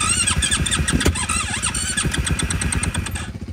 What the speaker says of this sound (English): Nugget, I didn't think my bike was going to start